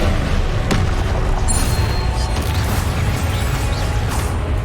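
Confringo fire spell blasts in Hogwarts Legacy, loud booming explosions rolling into one another over dense rumbling combat noise, with no pause and no voices.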